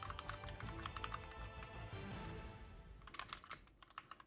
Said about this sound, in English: you're typing, I'm typing.